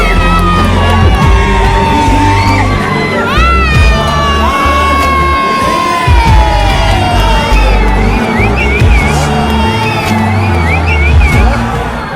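A huge, dense crowd in Tiruchirappalli screams, whoops and cheers for the actor-politician Vijay, a loud continuous roar with many high shouting voices rising over it throughout.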